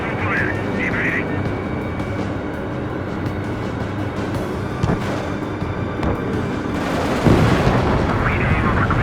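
Missiles launch and a jet fighter roars in the Ace Combat 7 air-combat game, a continuous dense engine rumble with bursts of fire, under game voices and chatter.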